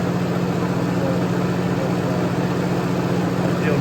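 A tractor engine idles steadily at close range, a continuous low rumble with a strong hum that holds evenly throughout without any change in pitch or speed.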